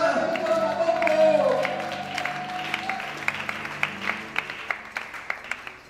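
A church congregation breaks into applause for the Lord: a voice fades out at first, then scattered claps build into sharp, distinct hand claps ringing through the room toward the end.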